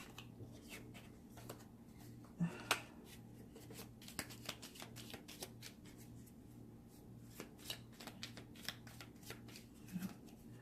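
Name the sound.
shuffling tarot cards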